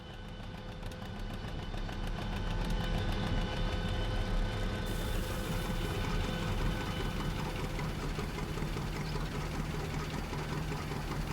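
A John Deere tractor engine in Farming Simulator 19 idles and runs steadily, a low rumbling chug with a rhythmic knock that holds throughout without any talking.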